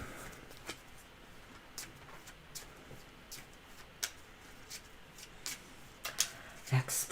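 Lenormand cards being shuffled by hand, soft papery riffles and taps coming in quiet irregular bursts, growing a little busier toward the end.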